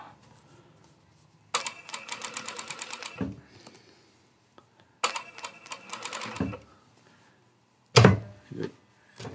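Sewing machine stitching fabric around a tight curve while mending a ripped shirt, running in three separate bursts of rapid, steady needle clatter, each stopping abruptly with a thunk, close and moderately loud.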